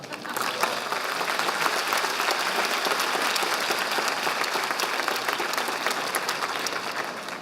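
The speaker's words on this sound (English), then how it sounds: "Now you can applaud." An audience at a college commencement ceremony applauds, a dense, steady wash of clapping that holds evenly throughout with no voices over it.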